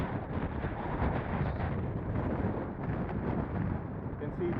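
Strong, steady ocean wind at a coastal slope soaring site, blowing at 25 to 30 miles per hour, heard as a continuous loud rushing roar buffeting the microphone with no breaks.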